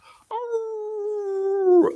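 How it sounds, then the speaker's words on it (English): A single long, steady howl, apparently a dog's or wolf's, holds one pitch for about a second and a half, then ends in a brief rough burst of noise. It is loud and close and stands alone. "there is a large howl suddenly interrupts"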